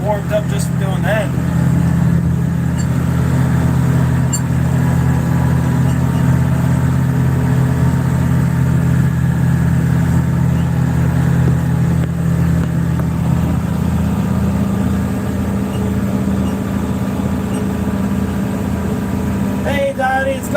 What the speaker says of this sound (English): Just mowing some grass on the farm.